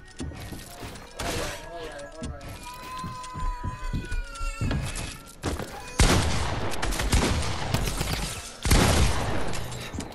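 Pump shotgun blasts in the Fortnite video game, several loud broadband bursts spread across the scene among busy game sound effects and a brief pitched tone.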